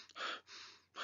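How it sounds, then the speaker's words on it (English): A person demonstrates really fast breathing, with three quick, breathy bursts of air drawn in and pushed out in rapid succession, close and fairly soft. "really fast breathing"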